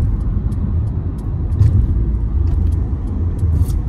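A car drives through town, its engine and road rumble a steady low drone that fills the whole stretch, with faint clicks above and no talking.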